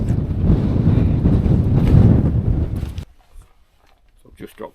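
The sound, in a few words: gale-force wind on a mountain summit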